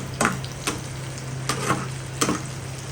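Okra and potato pieces fry in a pan with a constant sizzle, punctuated by four distinct spatula scrapes as the vegetables are stirred at close range.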